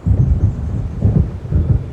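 Deep thunder from a thunderstorm in the Alan Wake video game rolls in heavy, loud, low rumbling pulses that swell and recede several times.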